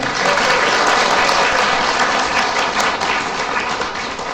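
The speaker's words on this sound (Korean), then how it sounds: "앞으로 새로 날 우리 혼을 위해서 박수 한번 칠게요" A church congregation claps together in sustained, dense applause that fills the space evenly from start to finish, loud and close, with no voices on top.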